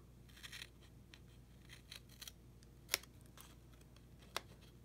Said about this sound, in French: fait que je viens le recouper avec des ciseaux.